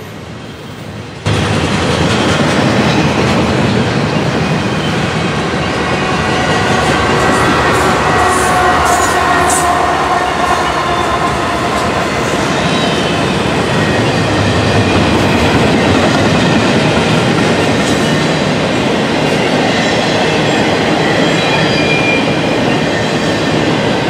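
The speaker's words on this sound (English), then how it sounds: "CP AC4400CW pushing in the middle." Freight train with a CP AC4400CW locomotive working as a mid-train pusher rolls past close by, a long continuous rumble with clickety-clack of wheels on rail joints and occasional faint wheel squeal, loud and steady throughout.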